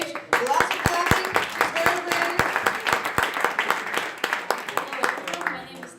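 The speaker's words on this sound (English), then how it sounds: "Lots of clapping." Audience at a startup weekend opening ceremony in Geneva claps as a young woman is welcomed to the stage, steady dense applause with a few sharp, louder individual claps standing out near the front.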